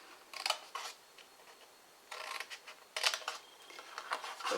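Scissors cutting paper for an Easter egg shaped gift box, with short bursts of crisp snipping and rustling separated by quiet pauses, faint and close.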